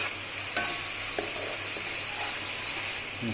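Chicken kosha frying in a pan: a steady, close sizzle with occasional stirring scrapes and clinks, no voices.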